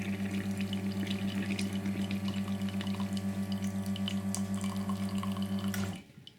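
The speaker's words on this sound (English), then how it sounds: "we'll start with a 6-second flush and then take a pause and try it" A Eureka espresso machine runs a six-second water flush through the group head, giving a steady pulsing pump drone with a faint watery hiss that cuts off abruptly near the end.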